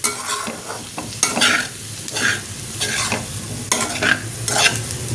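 Slices of raw banana fry in a pan with a steady close sizzle, broken by repeated bursts of scraping and stirring as they are turned.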